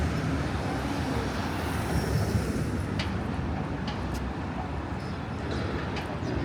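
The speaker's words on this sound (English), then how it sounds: "Oh, some more cars to wait for." Cars pass on 8th Avenue in New York, a dense steady roar of street traffic with a continuous low rumble and occasional sharper clicks, loud and near, with no voices.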